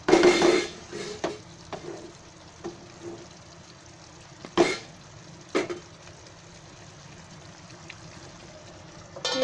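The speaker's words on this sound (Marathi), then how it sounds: "आता मी ह्याच्यावर झाकण ठेवते." A metal lid clanks onto a pot of cooking chicken, followed by a few scattered knocks and scrapes against a quiet kitchen background.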